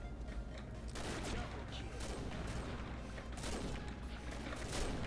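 Gunfire from the online shooter Combat Arms rattles in dense, rough bursts with no clear gaps, sounding muffled and somewhat distant beneath constant game noise.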